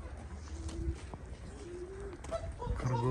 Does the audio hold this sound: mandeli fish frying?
no